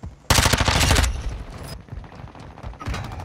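Rapid automatic gunfire in a shooter video game, a loud dense burst of fast shots for nearly a second, followed by quieter scattered shots and distant firing.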